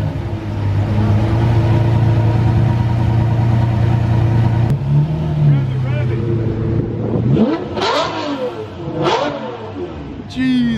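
A Lamborghini Murcielago at a TX2K event in Houston idles with a deep rumble, then barks into loud revving bursts nearby as onlookers talk over it.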